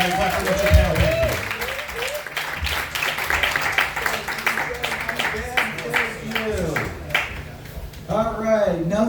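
A comedy audience claps for a comedian taking the stage, dense, steady applause with cheers mixed in throughout, and a speaking voice breaking in over it near the start and again at the end.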